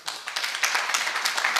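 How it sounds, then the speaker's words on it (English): A small group claps at a residential apartment meeting, a brief loose patter of hands with individual claps standing out, moderately loud and without talk. "Please give a round of applause."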